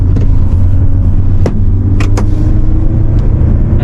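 A Hyundai Palisade SUV with an 8-speed automatic downshifts while driving, a steady low engine and road drone with brief shift transients, close and fairly loud.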